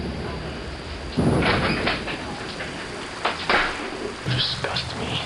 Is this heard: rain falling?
yes